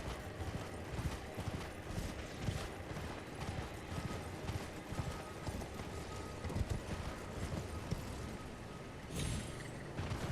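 Horse hooves galloping in Elden Ring, a steady rapid clip-clop that runs throughout over dense, noisy game ambience, with no talk.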